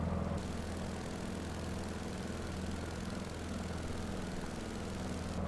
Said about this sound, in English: You get that nice engine sound, a little bit louder.